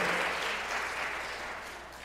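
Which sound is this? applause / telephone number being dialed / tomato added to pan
applause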